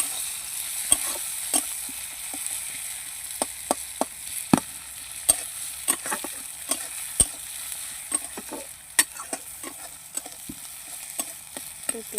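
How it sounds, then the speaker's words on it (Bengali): Onions fry in a pan with a steady sizzle, broken by frequent sharp scrapes and clicks of stirring at an irregular rhythm, close and clear with no talking. "পেঁয়াজগুলো আমি এবার ভাজবো"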